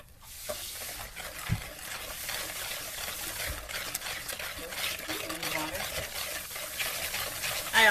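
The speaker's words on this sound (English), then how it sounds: "we will add the eggs into the mixture and whisk those in first" Eggs being whisked into brownie batter in a home kitchen: a steady, close scraping and swishing of a whisk through thick mixture, continuous for several seconds with soft clinks against the bowl.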